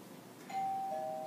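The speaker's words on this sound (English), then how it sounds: "my doorbell just rang" A home doorbell chimes once, a clear sustained electronic tone that starts partway in over quiet room noise and lingers to the end.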